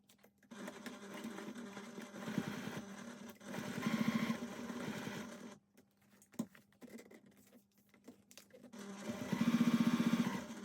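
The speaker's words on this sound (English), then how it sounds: "Now remember to sew 1/8 of an inch away from the fold line" A sewing machine stitches a cotton wallet in short runs, each a rapid, even mechanical whirring burst of about one to two seconds, separated by quiet pauses with small handling clicks, heard up close.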